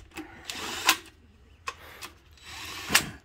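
A power tool bolts up a 12-bolt rear axle from a '66 Nova with 4.10 gears, firing in short, sharp bursts separated by pauses, close and loud.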